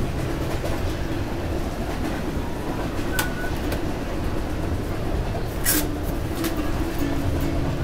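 Interior of a moving passenger train crossing Canada, a continuous loud rumble and rattle of the carriage with rhythmic track clatter, occasional sharp squeaks and metallic clanks cutting through.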